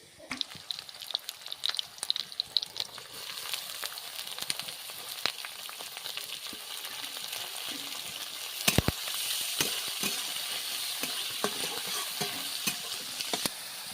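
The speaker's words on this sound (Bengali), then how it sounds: "আগে থেকে ঝিনুক ভাপিয়ে পরিষ্কার করে রেখেছিলাম, এখন কড়াই দিয়ে দেব।" Steamed, cleaned oysters sizzle and fry in a hot wok with green chillies and onion, a steady close crackle with scraping stir strokes and occasional sharper clatters of the spatula, no talking.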